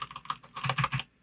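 Quick keystrokes on a computer keyboard while working in the Vim editor, a short burst of about half a dozen close clicks and taps with brief pauses, no voices.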